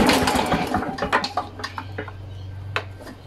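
A Victa two-stroke engine is cranked over by hand for a compression test, giving a short run of uneven mechanical clacks and pulls with a low steady hum beneath, moderately close.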